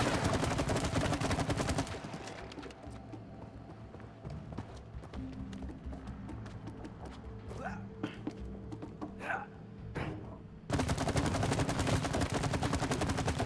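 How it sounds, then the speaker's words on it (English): Gunfire in the co-op game It Takes Two as players shoot at chains, dense rapid bursts at the start and end with quieter shots and game noise between, while people talk over it. "Can you shoot them chains?"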